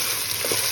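A pan of Bhetki fish curry with potato and pointed gourd sizzles and fries steadily as tomatoes are stirred in, a dense continuous crackle close up.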